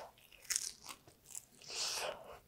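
A close, crisp crunch of a bite into a pan-fried Korean dumpling dipped in soy sauce, followed by a few softer crackly chews.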